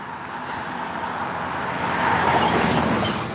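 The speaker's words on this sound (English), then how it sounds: "Lots and lots of cars in the parking lot." Road traffic by a parking lot packed with cars, a steady broadband rumble of engines and tyres that swells as a vehicle passes close around the middle, then eases slightly.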